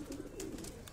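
A hungry pigeon sitting on a rooftop gives soft, low cooing close by, a brief murmuring coo in a quiet setting.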